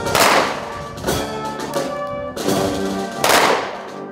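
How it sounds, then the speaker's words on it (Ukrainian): An honour guard fires ceremonial salute volleys during the Ukrainian anthem at a memorial for those killed in the Second World War, sharp cracks ringing out at intervals over sustained music. "Після покладання квітів пам'ять загиблих вшановують пострілами почесної варти"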